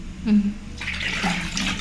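After a short voiced sound, water is poured into a pot of flour for Kerala Pesaha bread, a close, splashing gush that continues to the end.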